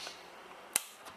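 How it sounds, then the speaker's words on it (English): Small side cutters snipping through component legs during an amplifier repair, giving a single sharp close snap over a quiet room hiss, followed by a fainter second click. "So I've got my little side cutters. I'm just going to cut"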